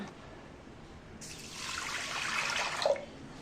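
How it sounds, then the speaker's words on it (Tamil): A handful of moong dal is rinsed under running water in a kitchen sink; after a quiet start, a steady splashing gush of tap water rises and continues close by, with no talking. "சிறுபருப்பு ஒரு கைப்பிடி எடுத்திருக்கேன் இதை இப்போ வந்து வாஷ் பண்ண போகிறேன்"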